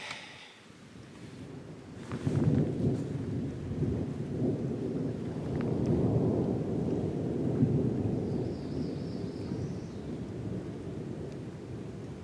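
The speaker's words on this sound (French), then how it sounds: "Et l'orage semble être passé." Thunder rolls through a long, heavy rumble over steady rain during a storm at a canoe campsite in the Mastigouche wildlife reserve, swelling and fading across the stretch with wind adding noise.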